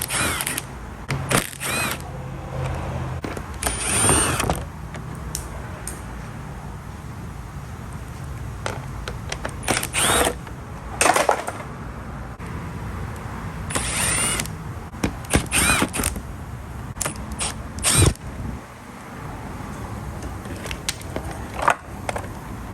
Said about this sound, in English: So now I'm gonna take out the rest of these 10mm bolts.